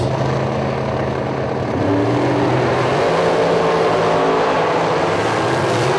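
Sportsman drag race cars launch at the C.A.R.S. Protection Plus Million Dollar Drag Race in a loud, continuous engine roar. It surges and climbs in pitch as they pull away, with no talking.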